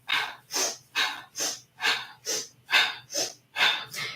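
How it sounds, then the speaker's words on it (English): Rhythmic yoga breathing through the nose during a spine-opening practice: eight quick, forceful breaths close to the microphone, each a short hissing rush, evenly spaced about half a second apart. "Inhale, exhale."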